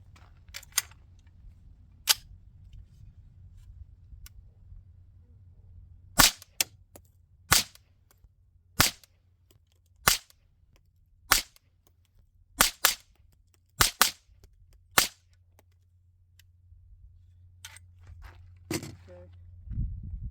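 Sharp suppressed gunshots from a DBX57 rifle fitted with a Huxwrx Flow .22 Ti suppressor, firing 40 grain V-MAX rounds outdoors; about ten to twelve crisp cracks at irregular intervals over a low background hum, fairly close.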